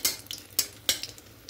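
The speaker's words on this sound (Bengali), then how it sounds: "এবার হালকা করে একটু লঙ্কাগুলোকে ভেজে দেবো" Dried red chilies fry in hot mustard oil as a spoon stirs them, giving three or four sharp scraping, sizzling bursts with a low crackle in the gaps.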